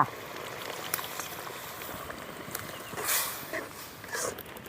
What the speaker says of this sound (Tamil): நல்லா கொதி வந்துடுச்சு